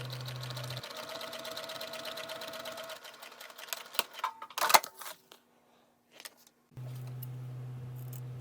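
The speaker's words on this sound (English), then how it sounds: "starting at the bottom, sew close to the vertical line, pivot and backstitch a few times, then sew down parallel to the first stitching line." A sewing machine stitches a bag pocket panel in a quick steady whir, stops briefly, then runs again in short bursts, mixed with light handling clatter and a pause of near silence before the motor hum resumes.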